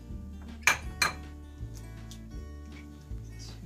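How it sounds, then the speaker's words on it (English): Six whole eggs cracked against a bowl, two sharp close clinks followed by softer taps and knocks, sparse and brief in a quiet kitchen. "I'm going to use 6 whole eggs for this, so I'm just going to crack them"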